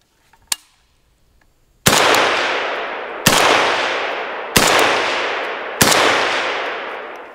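A suppressed .30 caliber rifle fires outdoors: one faint early report, then four loud, sharp shots spaced about a second or more apart, each trailing off in a long echoing decay.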